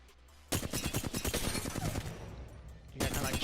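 Rapid automatic gunfire in an Apex Legends warmup session, a dense burst of loud close shots for about two and a half seconds, then another burst starting, with a voice talking underneath.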